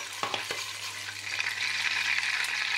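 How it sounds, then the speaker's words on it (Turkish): Butter with red chili powder heated in a pan for lentil soup, a close, steady crackling sizzle that grows slightly denser, with a few early stirring knocks and no talk. "Yaklaşık yarım yemek kaşık tereyağını kızdırıyorum, eritiyorum. Sonrasında bir çay kaşık kırmızı toz biber ekleyip yakıyorum."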